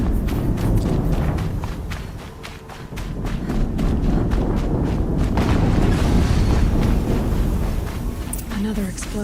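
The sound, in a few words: explosion in video game Horizon Zero Dawn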